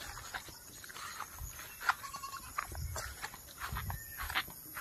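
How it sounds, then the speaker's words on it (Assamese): Three goats in a rural village setting, giving a few scattered bleats amid faint outdoor background noise, moderately distant and quiet. "ছাগলী 3টা আনিছোঁ"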